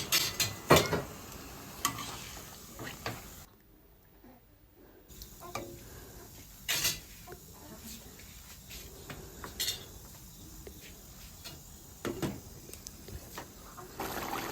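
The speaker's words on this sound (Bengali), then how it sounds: "এখন আগে থেকে ভেজে রাখা আলুগুলো দিয়ে দিচ্ছি। দিয়ে আবারও একটু নেড়ে চেড়ে" Catfish curry with pre-fried potatoes stirred in a pan, a spoon scraping and clinking in uneven bursts over a soft sizzle, with a quiet gap partway through.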